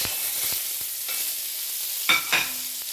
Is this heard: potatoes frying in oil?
yes